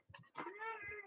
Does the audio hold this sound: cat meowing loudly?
yes